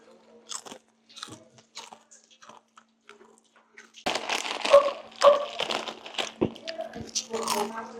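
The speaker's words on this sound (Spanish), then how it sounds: "Personas que hacen ruido al masticar." Someone chews food noisily with loud, wet crunching bites and smacking that become dense and continuous after a quieter opening with scattered short sounds.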